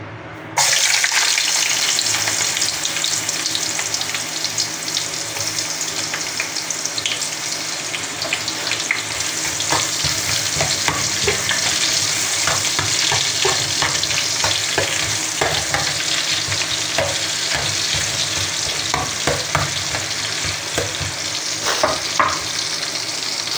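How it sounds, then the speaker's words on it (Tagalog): Ginger sizzles steadily in a pan for tinola with small anchovies, a continuous bright frying hiss with scattered scrapes and clicks from stirring, close and loud throughout with no voices. "Ayan po, magigisa na po tayo ng luya."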